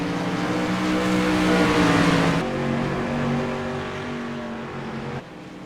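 Race cars run laps on an oval track, one engine droning loudly and revving before easing into a steadier, slightly lower roar, then dropping abruptly near the end.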